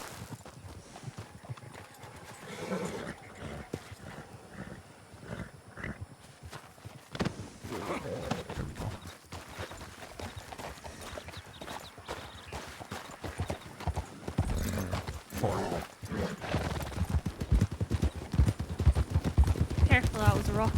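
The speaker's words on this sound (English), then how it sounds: "My horse." Hooves clip-clop in a steady walking rhythm as a horse moves through a western video game, growing louder and busier toward the end, with voices talking over it.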